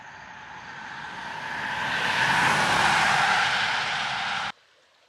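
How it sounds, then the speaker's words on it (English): Moderate traffic on Highway 21 beside a wooded trail: a vehicle's tire-and-engine rush swells steadily, peaks loudly as it passes close by, then cuts off abruptly. "I gotta run across Highway 21 here. Looks like moderate traffic."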